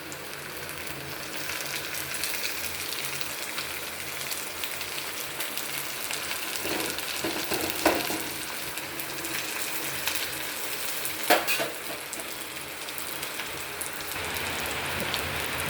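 Tomatoes fry in a pan for a dry prawn curry, giving a steady, even hiss of sizzling throughout, with a few faint clinks and pops partway through.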